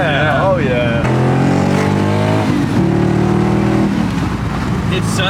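An LS V8 car, an LS3 Cadillac CTS-V or an LS1 Nissan 300ZX, pulls hard through a gear with a loud, rising engine note that shifts pitch a few times. Voices are heard over it.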